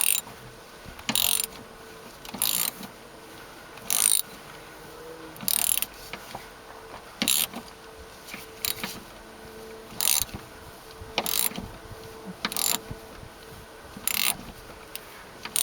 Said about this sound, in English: So that's a 13 millimeter.